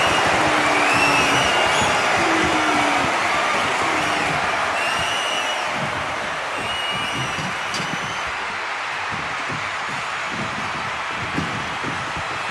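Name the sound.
arena crowd cheering in WWE 2K25 video game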